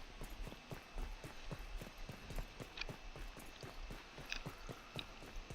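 Footsteps in Grounded, a quiet series of evenly spaced light thuds at a steady walking pace, faint and close, with a few small clicks scattered between the steps.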